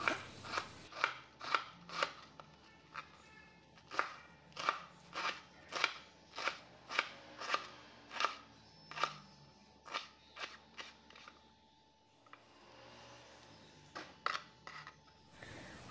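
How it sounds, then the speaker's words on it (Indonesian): Cabbage sliced thinly with a knife on a cutting board: a long run of crisp, evenly spaced crunchy cuts, close and fairly loud, pausing briefly near the end before a few more strokes. "Siapkan sayur kol iris tipis."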